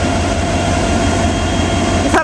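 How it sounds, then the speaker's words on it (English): A CSX Q447 freight train locomotive with an EMD prime mover runs loud and close, a steady heavy diesel rumble with a constant engine hum that holds for the whole stretch and ends in a brief clatter. "I'm really glad you got to hear the EMD Prime Mover and listen to the train"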